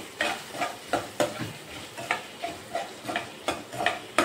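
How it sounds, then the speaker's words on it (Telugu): Onions frying with salt in a pan for aloo rice, a soft sizzle under a steady rhythm of close spatula scrapes and stirs, about two per second. "ఇవి కొంచెం లైట్గా వేగాలండి ఆనియన్స్."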